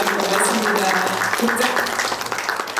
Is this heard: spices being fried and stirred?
no